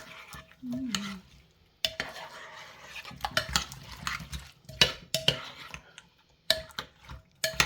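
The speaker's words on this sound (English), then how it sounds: "now mix the onion and potato, make sure that it's all covered" Onion and potato being stirred together in a slow-cooker pot for Dijon mustard pork, with repeated close scraping and clattering knocks of a utensil against the pot in irregular bursts.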